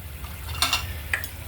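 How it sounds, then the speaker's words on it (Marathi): Roasted semolina is stirred into a pot of boiling water, with a few brief scraping, clinking strokes of a spoon over a low, steady bubbling hum. "रवा टाकल्यावरती हे सगळं नीट हलवून घ्यायचं."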